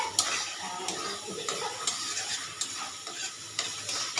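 Spices fry in a pan for a chicken bhapa roll, sizzling softly while a utensil stirs and scrapes against the metal in repeated, uneven strokes close to the microphone.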